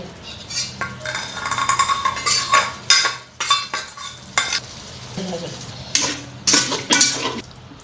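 Spice paste for beef is stirred and fried in a rice cooker, with a spoon repeatedly scraping and clinking against the pot over a steady sizzle. The strokes come in irregular close bursts, with no talking.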